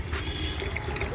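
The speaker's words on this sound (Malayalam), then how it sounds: "വെള്ളം നിറയാറാകുന്നു." Water pours from a tap pipe into a home aquarium as the tank nears full: a steady, close rush of running water with light splashing, alone and without voices.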